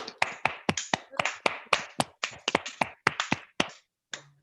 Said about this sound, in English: One more round of applause, please, for Haya.